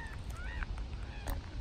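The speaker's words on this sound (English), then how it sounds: "a few ducks over on the other side" Ducks call from across the water in a gull- and pigeon-filled spot: a few faint, distant honking quacks rise over a steady outdoor rumble.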